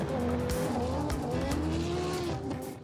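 An Audi Quattro S1 Group B rally car roars past at full throttle, its engine loud and close with shifting pitch as it accelerates, sharp bursts and tire squeal cutting through the sustained howl.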